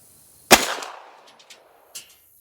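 A single sharp, close rifle shot from a PSA AR-V carbine fired at a range, with a short echoing tail and a fainter secondary report shortly after.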